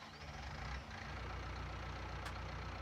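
A small two-wheel-drive Ford tractor in Farming Simulator 19 idles with a steady, low engine drone, quiet and constant with faint mechanical texture and no talking.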